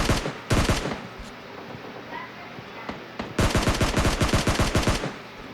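Rapid automatic gunfire in PUBG Mobile Lite, including an M4 rifle: two loud dense bursts of shots, a brief one near the start and a longer sustained one later, separated by quieter game ambience.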